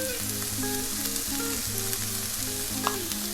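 Vegetables stir-fry in a hot pan, salted and peppered, with a steady close sizzle and repeated scraping stir strokes throughout, no voices.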